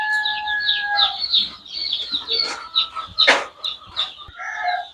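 Chickens, including Sonali chickens, clucking and squawking close by in a poultry shed, overlapping calls with a few sharper cries, busy and fairly loud.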